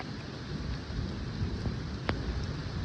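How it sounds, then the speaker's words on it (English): Heavy rain pours steadily in a severe thunderstorm, a dense continuous hiss with low rumbling thunder underneath and a sharp crack of lightning near the end; no voices. "Dude, this rain's bad."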